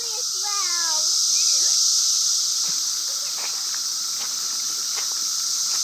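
Loud cicadas buzz in forest trees as a steady, dense hiss throughout, while a voice and other chatter come and go over it in the first seconds.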